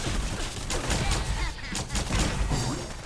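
A Glock 86 plasma gun mod fires in Fallout 4, a dense run of loud, rapid energy-weapon shots with thumping impacts packed close together and a brief lull midway, with game ambience underneath.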